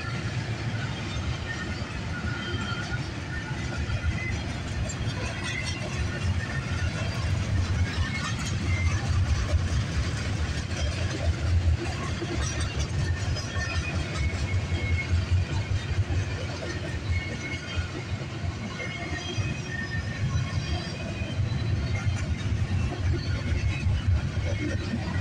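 Norfolk Southern freight train carrying containers, led by two BNSF locomotives, rumbling past steadily with continuous low engine and wheel noise at constant loudness throughout.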